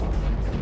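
A spaceship blows up after missile hits in the Starsector space combat game, a short, loud, low rumbling boom filling the whole moment with no voices.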